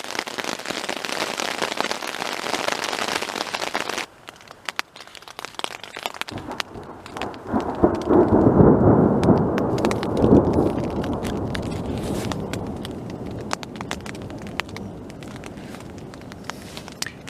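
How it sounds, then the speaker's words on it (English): Heavy rain pours down steadily, with a deep rumbling swell of thunder building in the middle and fading back into the downpour. "Now it's really started to rain really hard, and it sounds like the storm is almost overhead."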